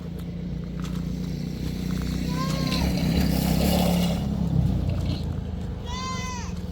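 A 1963 Ford F100 Unibody pickup rumbles along steadily in a low, continuous engine drone, with people talking over it and a goat-like bleating call breaking through briefly.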